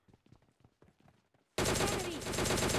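Sudden close automatic gunfire in PUBG Mobile Lite while shooting at a bot, a loud sustained rapid burst cutting in after quiet, faint mutterings and game noise.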